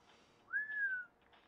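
A single clear, rising-then-level whistled note, short and fairly faint, from a parrot, alone against a quiet background.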